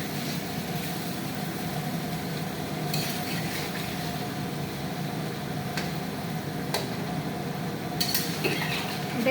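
Potatoes and peas frying in oil in a wok, a steady close sizzle with a utensil scraping and clinking against the metal at intervals, no voices.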